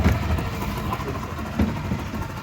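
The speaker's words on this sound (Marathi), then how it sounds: "आता इंजिन चालू करणार" A boat engine runs at Ujani dam, a steady low rumbling drone close by that stays even throughout, with no clear talking over it.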